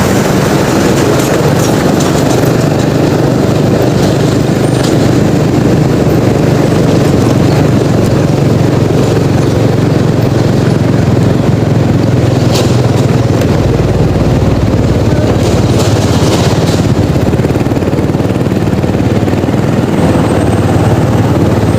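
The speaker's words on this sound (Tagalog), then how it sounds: "Ganda na ng tunog ng makina ko, no? Wala nang kalansing." A vehicle's engine runs smoothly without rattling while driving beneath the Skyway viaduct near the A. Bonifacio off-ramp in Metro Manila, a loud, continuous drone mixed with road and traffic rumble, no talking.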